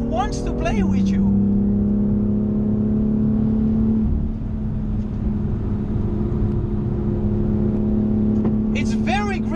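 BMW M2 engine droning at a steady pitch while driving, a constant hum with a brief shift midway, with speech at the start and end.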